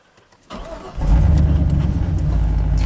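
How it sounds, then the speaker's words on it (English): A Chevy dump truck's Vortec V8 cranks in clear flood mode: after a brief quiet, the starter engages, then a loud, steady, low rumbling churn continues close by to the end. "Just a quick listen to the cranking in clear flood mode."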